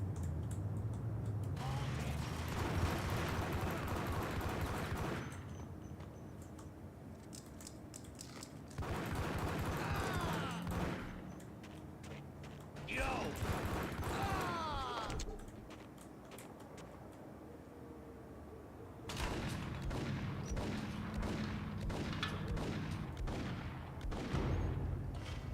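Bursts of gunshots in Max Payne separated by quieter stretches, several clusters of sharp cracks, fairly faint overall with mechanical clicks in between.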